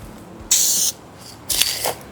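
Color shift paint hisses from a wide-pattern spray gun onto car parts for a drift car's custom handbrake, two bright, steady bursts of about half a second each separated by a short pause, close and loud.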